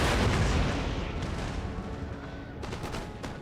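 Cannon and artillery fire in the Total War: Empire battle game, dense overlapping booms and cracks forming a loud continuous barrage, with a few sharper distinct shots near the end.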